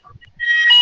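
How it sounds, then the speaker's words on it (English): An alarm sounds during an online webinar, a sharp electronic tone starting abruptly and holding loud and steady, preceded by faint low murmurs. "somebody's alarm is going off"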